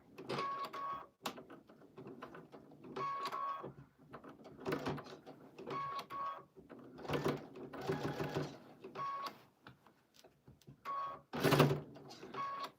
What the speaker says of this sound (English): Okay, we're going to go with a straight stitch.